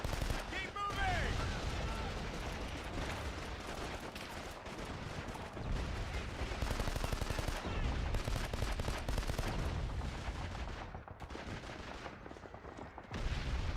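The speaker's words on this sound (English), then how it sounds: "You got a heavy fucking machine gun here." Heavy machine gun fire in Call of Duty 2: Big Red One on PS2, loud and nearly continuous for the whole stretch: dense rattling bursts mixed with other gunfire and battle noise, under shouting voices.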